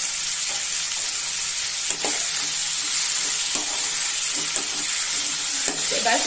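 Tomatoes with salt cook in a covered pan, giving a steady, even sizzle and bubbling hiss throughout, broken by a few faint soft knocks.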